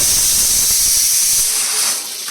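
A pressure cooker full of meat lets out a loud, continuous steam hiss, strong and close, that eases off slightly near the end, with no voices.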